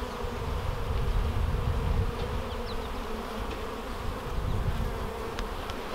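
Dense, continuous buzzing of many honey bees at a hive entrance close by, a steady swarming hum with individual bees droning past.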